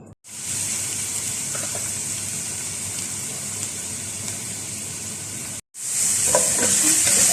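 Half a kilo of minced meat hits a hot oiled pan and fries with a loud, steady sizzle, briefly cut off near the end before the hiss returns louder with a few pops.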